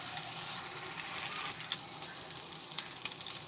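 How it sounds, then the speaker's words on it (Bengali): Prawn bharta sizzles and crackles steadily in a hot pan as it is stirred, a close, even frying hiss with small spitting pops throughout. "ভালো করে নাড়তে থাকবো"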